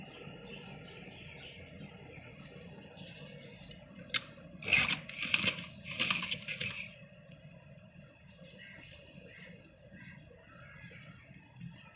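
A sewing machine stitches the seat seam of a pleated palazzo in a short burst of whirring, faint and close, set against quiet room noise with light chirps in the background.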